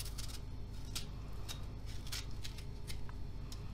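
Two lemons are chopped into small pieces with a knife on a board for brining cracked green olives, giving quick, faint, irregular cutting clicks over a steady low background hum.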